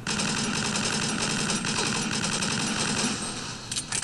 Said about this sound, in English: Bloody delayed explosions.